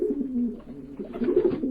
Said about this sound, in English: The soft cooing sound of the world's most misunderstood bird, the rock pigeon.